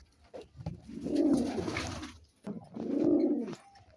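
A pigeon coos close and fairly loud, two long, deep rolling calls separated by a brief pause, with no talk over them.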